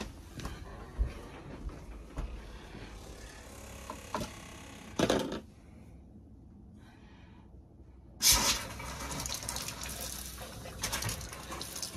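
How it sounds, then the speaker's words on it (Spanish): Water mixed with pink antifreeze runs from a trailer sink faucet in a steady hiss, cut by a brief quiet gap before a louder gush of flow resumes, with no talk. "Este es el agua que le queda en la línea y ahí está saliendo el producto rosita."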